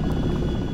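Steady, close rotor and engine drone of a CH-47D Chinook tandem-rotor helicopter in X-Plane 11, a continuous low throb with no talk.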